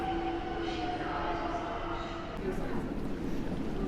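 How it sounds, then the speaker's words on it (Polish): Partly graffiti-covered S1 commuter train passing Warszawa Zachodnia station, a rumbling roll with a faint tonal whine, moderately close, with voices heard under the noise. "Linia S1, pociąg częściowo pomazany."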